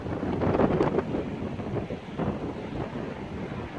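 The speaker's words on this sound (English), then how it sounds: "It's like 40 degrees and windy." Strong wind buffets the microphone in rough, continuous gusts, a low roaring rumble that swells and eases without any voices.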